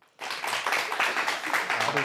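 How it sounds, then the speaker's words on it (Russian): Studio audience applause during a Gomel evening television program, a dense burst of clapping that starts abruptly after a brief silence and continues at fairly even strength to the end. "аплодисменты."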